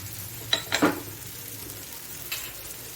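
Onion and tomato frying in a pan as asafoetida and turmeric go in, with gentle sizzling and a few stirring scrapes and clinks of a spoon, close and moderately loud, no talking.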